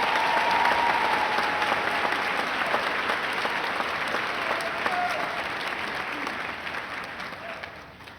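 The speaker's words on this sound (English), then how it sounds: "Let's give our nominees a round of applause." Sustained audience applause at a junior high graduation ceremony honoring award nominees, a dense steady clapping that fills the room and gradually fades toward the end.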